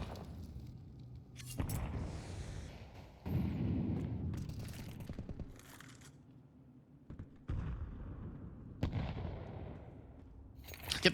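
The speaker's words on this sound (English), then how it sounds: "It just sounds like an artillery strike up top. The number of nades that are being chucked." Repeated grenade blasts in Counter-Strike on the Nuke map, a series of loud booms and bursts scattered across the clip with quieter rumbling gaps between them and no talk over them.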